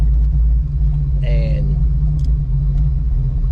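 A Ford Fox Body car fitted with a GT40 top end and E303 cam idles and rumbles with a deep, heavy tone, close and loud, with a short spoken word over it.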